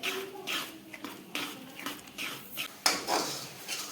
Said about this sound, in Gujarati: હવે આ રીતે તેને હલાવતા રહી અને પાકવા દેશું